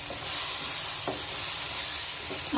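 A prawn curry with sesame powder is stirred in a pan, with soft sizzling and steam hiss under a few spoon scrapes against the pan, close and steady.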